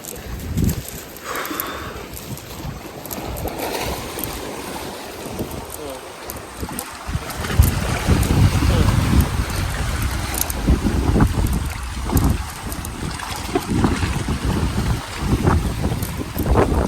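Strong wind buffets the microphone at sea while big waves surge and crash around a fishing boat, a steady loud rushing roar throughout.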